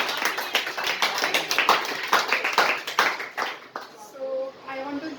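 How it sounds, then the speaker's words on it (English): A room of people clapping for a kitchen championship winner, dense rapid applause for about four seconds that thins out as a voice begins to speak. "give her the big round of applause"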